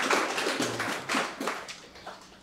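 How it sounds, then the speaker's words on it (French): Brief, scattered hand claps from an audience at a leadership masterclass, a few distinct claps spread over a couple of seconds, fairly close and sparse rather than a full ovation. "Donc, applaudissez s'il vous plaît"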